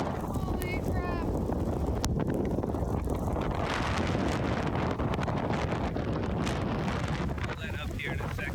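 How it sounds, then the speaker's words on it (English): Strong gusting wind buffets a sailboat at anchor, a loud continuous roar with wind noise on the microphone throughout, and people talking over it. "It's pretty windy."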